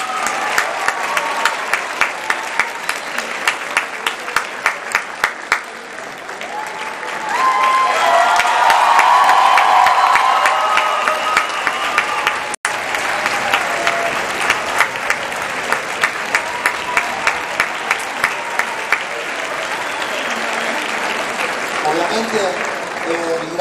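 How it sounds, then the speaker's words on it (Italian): A theatre audience at the Teatro Goldoni in Livorno applauds the conductor and stage director after an opera performance, a long, full round of clapping with some cheering and rhythmic accents, while voices carry over it. "prenditi l'applauso."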